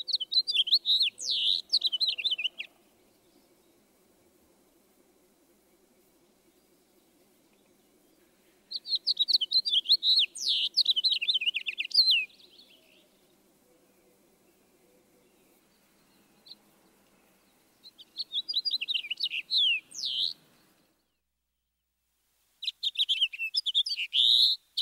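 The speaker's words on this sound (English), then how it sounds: "The house finch song is generally more burry sounding." House finch song, a burry warbling series with harsh slurred notes, heard as four separate bursts of bright song separated by quiet gaps over faint low background hum.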